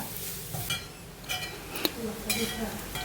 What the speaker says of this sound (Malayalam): നന്നായിട്ട് വീണ്ടും ഇളക്കുക